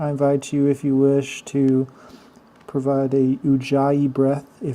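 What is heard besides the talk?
No everyday noises stand out.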